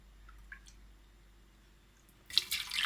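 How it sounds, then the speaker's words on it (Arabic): Three cups of water poured into a blender holding a creamy blended rice batter, a loud splashing pour starting near the end after a quiet stretch with a few faint drips. "3 كوب ماء"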